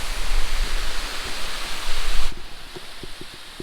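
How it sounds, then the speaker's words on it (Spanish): Steady rushing water of a waterfall in a Tennessee forest, a broad continuous roar that drops suddenly to a quieter wash partway through, with a few faint thuds near the end. "pero les mostraré esta cascada."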